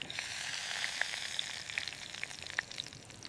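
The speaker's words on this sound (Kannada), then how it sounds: "ಮೀನನ್ನು ಎಣ್ಣೆಗೆ ಹಾಕುವಾಗ ಜಾಗ್ರತೆ" Fish frying in hot oil for a village-style fish fry, a steady, fairly quiet sizzle with scattered small pops and crackles, nobody speaking.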